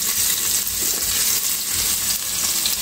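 Garlic and ginger sauté in fish oil in a pan, a loud continuous frying hiss with small crackles and a few stirring scrapes.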